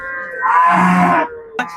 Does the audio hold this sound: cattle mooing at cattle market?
yes